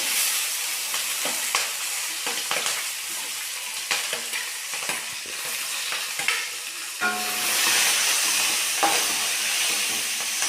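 Garlic, dried chili and curry leaves fry in hot oil for a tempering, a steady sizzling hiss broken by stirring scrapes and clatters, then swelling louder near the end, close up with no talk.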